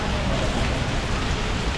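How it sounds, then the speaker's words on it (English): Rain falls steadily in Kuala Lumpur, a constant, even hiss of drops on surfaces with no clear breaks and no talking. "what do you do when it's raining in Kuala Lumpur?"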